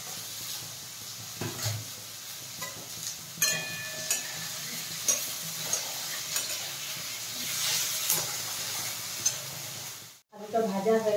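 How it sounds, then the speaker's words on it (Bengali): Potatoes fry in a pan with a dry red chilli and cumin tempering, making a continuous close sizzle with repeated stirring scrapes. The sizzle stops abruptly near the end and then resumes. "আলুটা ভাজা হয়ে গেছে"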